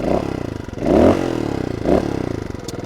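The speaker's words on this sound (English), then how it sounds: "Although it's quite a big lump of an engine, because it is Beta's own engine, you know, it's not short stroke, this is a long stroke, 4-stroke." A Beta trial motorcycle with its own long-stroke four-stroke engine revs up close in three short blips, each rising from a steady idle and falling back again.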